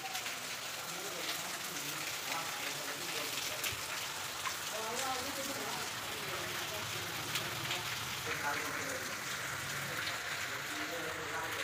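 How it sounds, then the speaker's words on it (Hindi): Rain falling steadily in Garhwa during the day, a dense even patter on surfaces that continues throughout, with faint voices or sounds underneath. "देख सकते हैं बारिश दे रहा है।"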